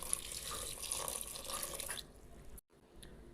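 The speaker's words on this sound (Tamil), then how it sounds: "இப்போ இதில் தண்ணி நான் மூழ்கிற அளவுக்கு சேர்த்துக்கிறேன்." Water runs from a tap into a pot holding eggplant for sambar, a steady splashing pour that stops abruptly partway, followed by a brief drip and quiet.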